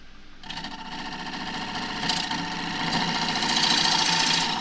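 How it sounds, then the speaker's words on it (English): A 3/8 deep fluted bowl gouge cuts the inside of a roughed-out wide-rim box-elder bowl spinning on a wood lathe, truing it up. The lathe runs with a steady mid hum while the cut starts and rises into a louder, continuous bright scraping hiss, near and alone. "just true up the inside and make myself another shoulder for the chuck jaws"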